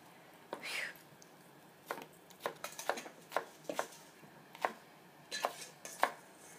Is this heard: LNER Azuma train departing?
no